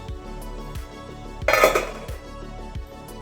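A metal steamer pot lid is lifted to check steamed red poha balls, giving a single close clank and rattle over a steady low background of kitchen noise.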